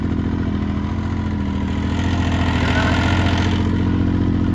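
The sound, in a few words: Yamaha Nytro turbo snowmobile engine idling with rattle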